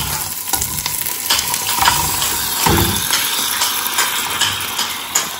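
Mutton pieces drop into a pan of fried onion and ginger-garlic paste, making a loud, busy sizzle with repeated stirring scrapes and bursts of spattering.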